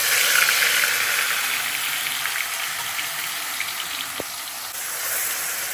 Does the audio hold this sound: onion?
yes